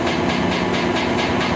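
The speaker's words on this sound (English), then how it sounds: "And here we have MPI's MP36PH3C locomotive number" An MPI MP36PH3C locomotive hauls a VRE commuter train bound for Alexandria, making a loud, steady roar of wheels and engine with a faint rhythmic clatter, close by and continuous throughout.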